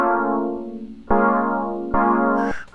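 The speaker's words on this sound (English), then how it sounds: "So I ended up picking some random spots for these stacks of chords, and they sound like this." Synthesized MIDI chord stacks with added tense notes, three sustained chords struck in turn, each swelling bright and decaying, followed by a short burst of noisy effect at the end.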